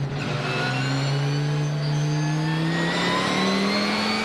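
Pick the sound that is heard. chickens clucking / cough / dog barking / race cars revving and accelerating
race cars revving and accelerating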